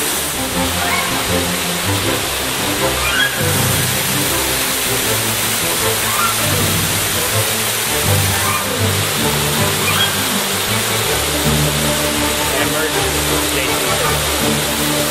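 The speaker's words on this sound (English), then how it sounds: "Approaching the third waterfall." Waterfall on the Kaau Crater hike, a steady broadband rush of falling water that stays loud and constant throughout, with some voices faint under the roar.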